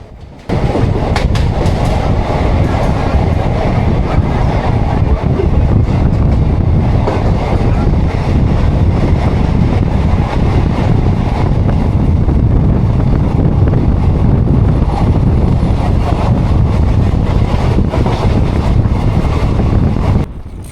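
The 12347 Sahid Express rolls steadily at speed out of Howrah, a continuous loud rumble with rhythmic clatter of wheels on rails and some wind buffeting, no talking.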